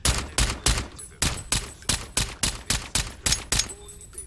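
Silenced gunshots from the video game Brink, about a dozen sharp suppressed shots fired at a steady, fairly quick pace, close and loud with brief decays between them.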